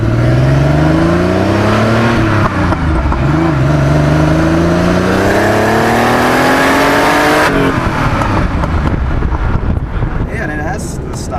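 A modified Porsche 930 Turbo exhaust with heat exchangers and a K27 turbo revving hard, its engine pitch climbing and falling in loud, close sweeps with burbles and raps, with wind buffeting the microphone.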